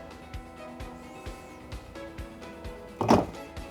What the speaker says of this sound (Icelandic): þá ýtum við bara á takkan hér og þá lokast skottið aftur hægt og rólega